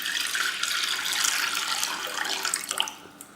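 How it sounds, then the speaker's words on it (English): Water poured from a tap into a bowl holding black gram dal, a steady hissing splash filling the short moment, close and fairly loud, tapering off at the end. "So I'm going to pour some water."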